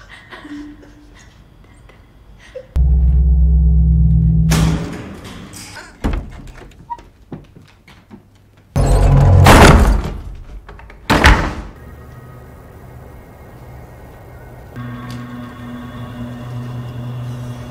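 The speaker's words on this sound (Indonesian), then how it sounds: "pintu tiba-tiba tertutup" A door slams shut in a horror film scene: a few heavy thuds and knocks land between stretches of low rumbling ambience and tense background sound, with no voices.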